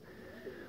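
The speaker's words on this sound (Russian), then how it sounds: "Голуби голодные." Hungry pigeons coo softly in a low, steady murmur, a faint continuous burble with one slightly fuller swell near the middle.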